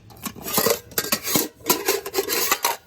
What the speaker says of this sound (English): And then it nests a smaller pot inside.